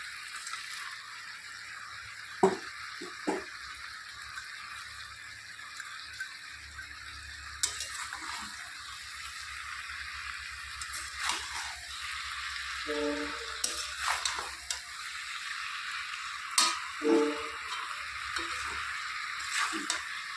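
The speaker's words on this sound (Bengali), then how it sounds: "তো এখন মাছগুলো আমি দিয়ে দেবো" Small tangra fish cooking in a pan with vegetables for a chorchori, a faint steady frying hiss with scattered stirring clinks and scrapes, quiet and somewhat distant.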